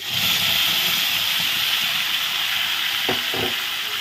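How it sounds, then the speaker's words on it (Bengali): Tomato paste hits a hot pan of fried potato chunks and sizzles with a loud, steady, close-up hiss, broken by a couple of brief clunks near the end. "এখন আমি দিয়ে দেবো টমেটো পেস্ট।"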